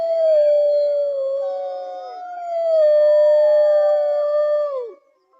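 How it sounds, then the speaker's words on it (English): A single wolf howls long and loud in close, clean isolation, its tone rising and falling in two drawn-out phrases before breaking off, with no other sound around it. "is like a nice wolf sound"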